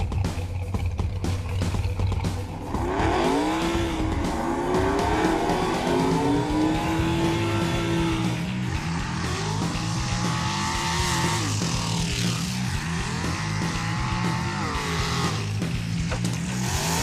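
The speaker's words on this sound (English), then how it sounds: "This dragster, it's got a big block Chevy in it, Power Glide, close to 700 horsepower" A dragster with a big block Chevy engine, Powerglide transmission and close to 700 horsepower revs hard and loud throughout, its pitch sweeping up and down in repeated bursts with no talking.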